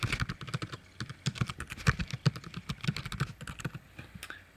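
Keys on a computer keyboard being tapped out in quick, irregular bursts while an email address is entered, close and fairly quiet with no talking.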